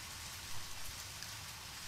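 Steady rain falls in the video game Deadly Premonition, a dense, even hiss of rainfall that stays constant throughout with no voices.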